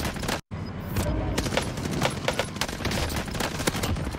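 Rapid gunfire in a fast-paced, high-kill shooter video game, dense bursts of shots and booms running continuously and loud, with one brief dropout near the start.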